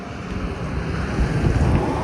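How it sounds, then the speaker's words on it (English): Wind gusting outdoors in the countryside at Ballyboley, Northern Ireland, a close, steady rush buffeting the microphone with low rumble that swells toward the end. "It's getting windy and it's getting dark."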